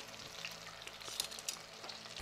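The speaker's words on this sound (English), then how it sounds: "Now we're gonna add fish to our skillet. I'll pan fry it 2 minutes on each side." Yellow perch fillets pan frying in a skillet of oil at 350 degrees, a steady close crackling sizzle with a few sharper pops, heard alone without talk.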